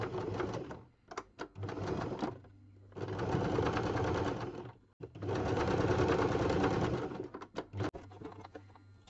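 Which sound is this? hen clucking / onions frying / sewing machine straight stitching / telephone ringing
sewing machine straight stitching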